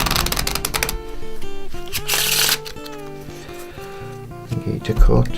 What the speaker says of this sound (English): Give the deck a couple of riffle shuffles.